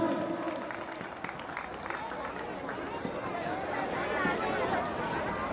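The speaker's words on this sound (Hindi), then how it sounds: "जोरदार तालियां भाई।" A crowd gives sustained, moderately loud applause to welcome a guest at a public event, with busy clapping mixed with chatter and a voice speaking over it throughout.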